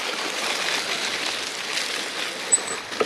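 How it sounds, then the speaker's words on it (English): A mountain bike splashes through a small creek on a North Georgia forest trail, giving a continuous rushing, gurgling water wash at close range, with a couple of brief sharp splashes or clanks near the end and no talking. "Little creek crossing."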